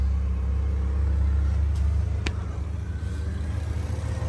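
A Honda Civic idling with its air conditioning running, a steady low engine rumble and hum close by, a single sharp click midway, and no speech.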